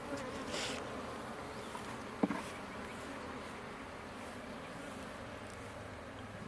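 Honey bees of Russian genetics buzzing around an open hive, a dense steady hum close by with individual bees droning past, and a single faint tap near the middle.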